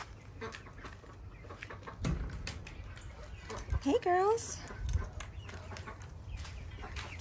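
Chickens in a backyard chicken coop give a short run of rising clucks over steady outdoor background noise. A person briefly speaks to them nearby.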